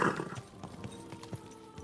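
Horse hooves clopping in Kingdom Come: Deliverance 2, a few uneven, moderately close hoofbeats slowing down, with a brief whinny-like sound at the start.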